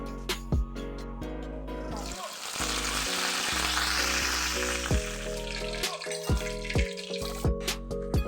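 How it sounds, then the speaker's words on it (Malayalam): Mustard seeds spluttering in two tablespoons of hot oil in a pan for green peas egg masala, a steady loud sizzle with sharp pops and clatters of the pan over it. "രണ്ട് ടേബിൾ സ്പൂൺ എണ്ണ ഒഴിച്ചു കൊടുക്കാം നമുക്ക് അല്പം കടുക് ഇട്ട് കൊടുക്കാം"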